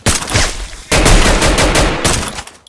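Video game gunfire rattles out in loud, dense bursts of rapid shots, with a short gap between volleys and a final burst trailing off.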